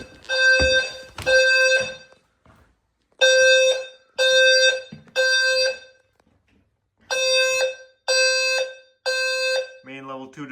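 A home fire alarm system sounds during an HVAC duct detector test, giving loud, harsh electronic beeps in repeating groups of three separated by short silences, followed by a brief voice at the end.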